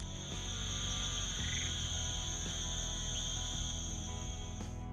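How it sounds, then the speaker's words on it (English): A dense Florida swamp night chorus of frogs and insects, with steady high-pitched insect trills layered over low, pulsing frog calls, loud and continuous throughout. "Frogs, insects, birds, and mammals create layered soundscapes that can reach deafening levels."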